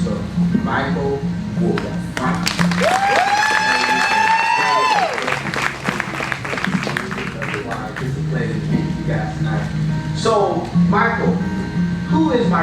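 Warm applause from a concert audience at a community singing event, steady clapping filling the room while voices talk and a singer's sustained vocal rises briefly in the middle.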